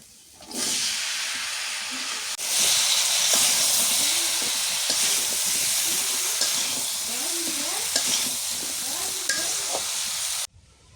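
Pieces of papaya go into a pan of spices frying for a village-style curry. A loud hissing sizzle jumps up at once and swells again, with repeated scraping stir strokes over the steady frying.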